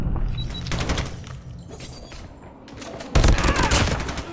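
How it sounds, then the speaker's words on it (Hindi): Rapid automatic gunfire in Call of Duty, with dense fast-firing bursts that fade briefly, then a louder, heavier burst near the end, all close and sharp. "अच्छा इसका फायरिंग रेट फास्ट है बहुत ज़्यादा"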